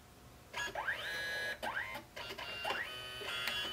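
Small photo printer printing journaling photos, giving three mechanical feed passes with rising whirring sweeps and clicks between them, close and fairly loud with no talk.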